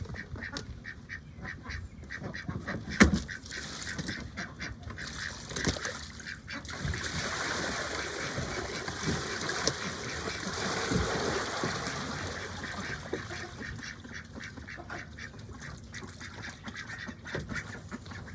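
Ducks quack and chatter continuously amid splashing water, a busy, steady flock sound close by with occasional louder calls.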